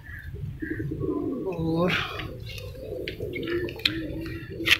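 Pigeons coo in soft, repeated throaty calls, close by, with a few chirps and someone talking over them.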